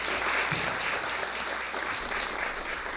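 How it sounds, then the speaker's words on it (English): Sustained applause from an audience at a feminist experimental film screening program, a steady dense wash of clapping that carries on through the whole stretch without pause. "If I could ask for one more round of applause for this magnificent program."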